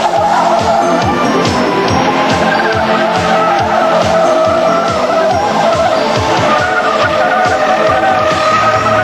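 A 1992 GMC Typhoon truck circles a skid pad with its tires squealing loudly and continuously, mixed with steady engine roar throughout.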